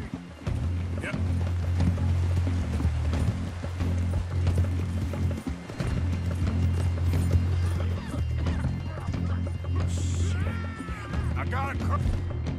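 Horse hooves galloping in Red Dead Redemption 2, a steady clip-clop running throughout over a low droning game soundtrack, with some talk and brief crashing noises near the end.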